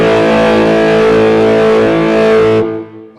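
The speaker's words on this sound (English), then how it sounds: "I usually just put a little bit of slapback on" An electric guitar plays a loud, distorted sustained note run through a slapback delay, ringing steadily for over two seconds before cutting off into a short decay.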